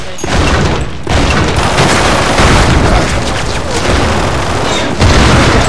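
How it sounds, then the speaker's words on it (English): Gunfire and booming explosions from the Metal Gear Solid 4 video game, a dense, continuous barrage of shots and blasts that stays loud throughout, with brief dips in between. "no, you already shot bullets."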